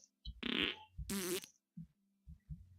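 A toilet in the Minecraft Furniture Mod gives off a cartoonish fart sound: two loud, buzzy blasts followed by several softer, low sputters trailing off, close and alone.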